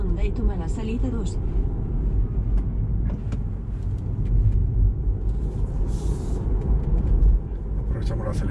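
A car decelerating and rolling into a roundabout, a steady low engine and road rumble with a brief hiss near the end, heard from inside the car alongside faint background voices.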